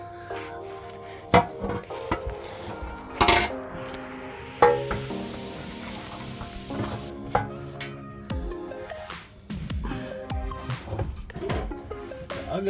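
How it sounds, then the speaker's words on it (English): Metal oil pan being fitted back onto a Holden VY Calais engine during a service, with several sharp knocks and clanks spaced through the clip over a steady low hum, close by, no talking. "let's put the pan back on"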